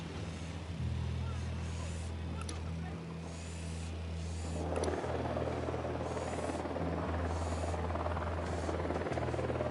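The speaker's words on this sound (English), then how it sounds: "The drone is up." A drone hovers and flies in the video game Ghost Recon Wildlands, a steady whirring rotor drone with low thumping pulses, joined midway by a denser hiss of wind and ambience, continuous and fairly close.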